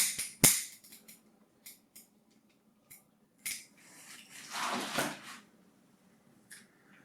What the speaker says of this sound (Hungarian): Nagyon nehéz elmetélni, hogyha nem pont tökéletesen fogja meg az olló